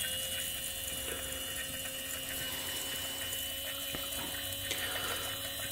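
A small Walmart water fountain pump hums steadily with a low motor drone and trickling water, quiet and continuous with no talking.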